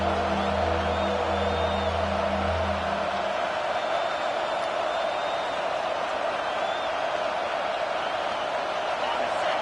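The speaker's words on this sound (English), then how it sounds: "this crowd is tearing the lid off this place" A football stadium crowd roars on third down in a college game between FSU and a rival. The dense, constant cheering fills the background while a commentator talks over it, and a deep horn sounds near the start.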